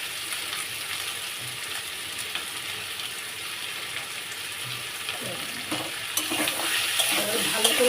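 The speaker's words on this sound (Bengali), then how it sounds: "এবার ভালো করে এটা ভাজতে থাকবো।" Elephant-foot taro frying in a pan with onion, ginger, turmeric and salt gives off a steady close hiss, with scraping stirs and a rising sizzle toward the end.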